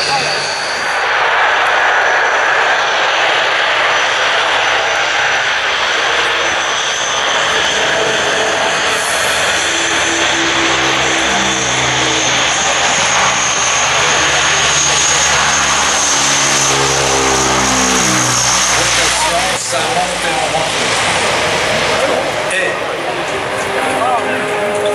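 A Transall C-160 military transport aircraft taxis fast along the runway at an air show at La Ferté-Alais. The turboprop engines give a loud, sustained propeller roar and hum with shifting pitch. Someone commentates in French over it the whole time.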